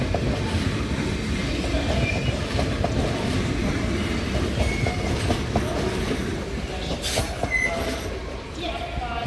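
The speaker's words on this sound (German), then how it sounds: "Ausfahrt RB 16 nach Greimersheim und Einfahrt eines Velaro Neos ICE" A Velaro Neo ICE train rolls into Munich main station with a continuous rumble and clatter of wheels over track, a brief metallic squeal near the end. A station announcement plays over the train noise.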